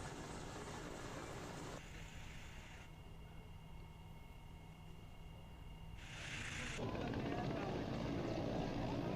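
Rescue helicopter flying over the Trikut ropeway in Deoghar after a ropeway accident, its steady broadband rotor and engine roar continuous throughout, swelling louder toward the end.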